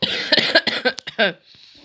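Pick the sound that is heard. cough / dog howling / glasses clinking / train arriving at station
cough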